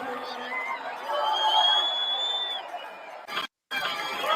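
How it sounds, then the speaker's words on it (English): A packed-house crowd at a live show murmurs and chatters in a steady, distant babble, with a brief whistle-like tone and a short cut to silence near the end. "This is the crowd."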